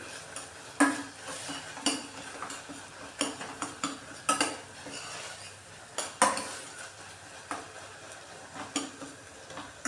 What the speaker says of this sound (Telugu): టమాటా లైట్గా ఇట్లా మెదిపేసుకుంటే మొత్తం లోపలికి గుజ్జంతా వచ్చేసి టేస్ట్ బాగుంటుంది